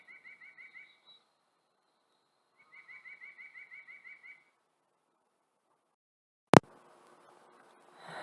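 White-breasted nuthatch calling in two bouts of rapid, nasal repeated notes, the first short and the second longer, fairly faint, followed by a sharp loud thump and rustle.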